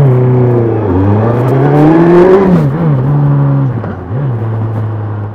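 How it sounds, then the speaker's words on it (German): A Suzuki GSX S1000GT motorcycle pulls away from a stop, its engine note climbing smoothly through rising revs with a brief dip as it shifts, loud and close throughout. "Also jetzt habe ich mal ein bisschen mehr Schub beim Losfahren gegeben, geht auf jeden Fall voll smooth."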